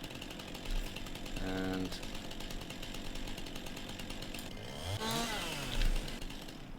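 A virtual chainsaw in Farming Simulator 19 cuts into a tree with a steady, loud buzzing drone that runs for several seconds, rising and sliding in pitch near the end as the blade bites, with almost no talk over it.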